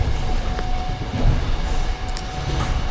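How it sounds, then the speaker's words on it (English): A train carriage runs on rails toward Mamonovo, producing a continuous low rumble with rhythmic wheel clatter and faint squeals, heard up close from inside an almost empty car. "it looks like I'm the last person on this train"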